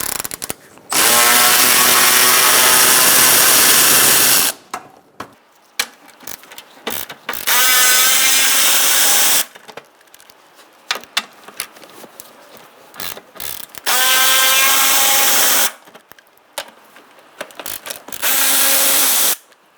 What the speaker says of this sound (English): now we're going to use a 10mm socket, and we're going to undo our bolts